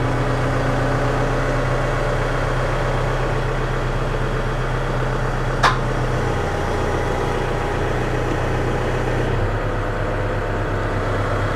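A tractor engine idling steadily with a low, constant rumble close by, interrupted by one brief metallic click midway and a slight drop in tone near the end.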